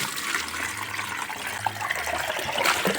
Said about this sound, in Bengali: একটা ছাঁকনির সাহায্যে এই কমলালেবুর খোসার জলটা ভালোভাবে ছেঁকে নেব।